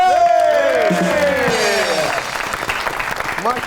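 Studio audience applause and cheering greet cricket guest Aaqib Javed on a Pakistani comedy talk show, a loud, dense wash of clapping with whoops and music-like tones, fading somewhat toward the end.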